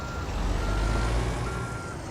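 A truck in American Truck Simulator backs a trailer with a steady engine drone and rumble, its reversing beeps faint against the continuous noise.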